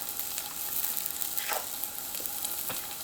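Tempeh pieces sizzle and fry in hot oil in a pan, a steady bright crackle with a few sharper pops, close and alone with no talking.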